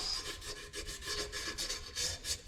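Sandpaper rubs a steering cylinder part smooth in a series of quick, close, rhythmic rasping strokes at a steady pace, with no talking.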